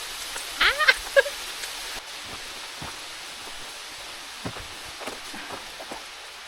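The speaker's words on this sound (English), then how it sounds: "There's hail coming down now." Hail and rain falling outdoors in the Lake District hills around Borrowdale, a steady wet hiss with scattered sharper drop impacts, one brief louder burst near the start before settling into soft continuous patter.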